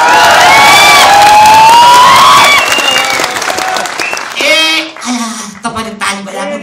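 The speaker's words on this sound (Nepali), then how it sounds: "प्लिज आयोजकको नाममा बजाइदिनु ताली" An audience at a Nepali comedy show in Gimhae, South Korea, applauds loudly with cheering, while sustained musical tones ring early on and scattered shouts and voices follow as the clapping thins.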